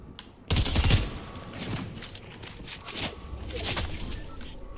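SMG gunfire rattles in a Fortnite match: rapid, dense bursts of shots come in several clustered volleys, loud at first and continuing on and off behind game noise.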